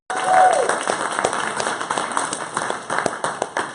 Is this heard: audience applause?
yes